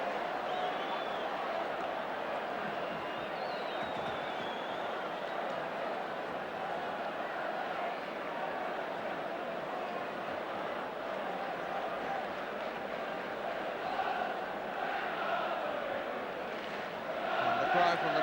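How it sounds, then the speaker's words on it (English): A football crowd chanting at a 1980 league match, a steady distant roar of massed voices swelling slightly toward the end, under a commentator's voice. "the cry from the crowd is that we're going to win the league"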